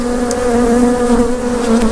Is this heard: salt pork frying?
no